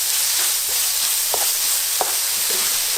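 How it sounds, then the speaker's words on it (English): Onion, garlic and parsley stir-fry in coconut oil, a loud, dense, even sizzle with a few brief spatula scrapes cutting through, heard close with no talking. "add the onion, garlic and the parsley. Stir fry about 1 minute"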